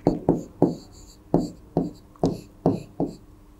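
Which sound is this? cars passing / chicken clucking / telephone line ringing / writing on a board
writing on a board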